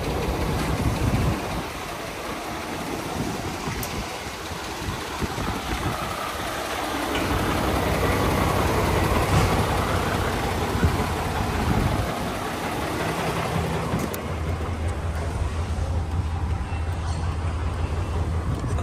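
An Isuzu Giga EXR 4x2 truck with a 6WG1 diesel engine, 7-speed manual and leaf spring suspension idles with a steady, deep rumble, heard close and continuous throughout with a slight shift in tone midway.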